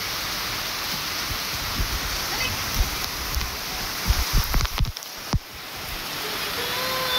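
Heavy rain pours steadily and loudly outdoors near the recording, a dense continuous hiss with a few louder knocks and bumps partway through, no voices.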